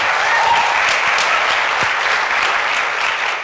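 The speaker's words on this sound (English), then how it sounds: "let's give a round of applause" A school season celebration audience claps in a sustained, dense round of applause, loud and steady throughout with no voices over it.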